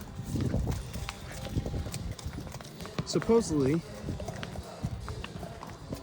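Horse hooves clip-clopping along a trail on a pilgrimage route between Ambasmestas and Fonfria, a close series of uneven thuds and scuffs, with a man yelling at the horse briefly and people talking over it.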